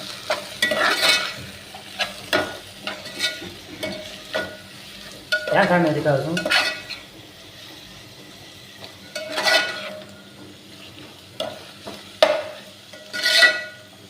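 Food being stirred in a frying pan after chopped coriander goes in, with repeated scraping strokes of a spoon against the pan over a soft sizzle. The strokes come in irregular bursts with quiet gaps between them.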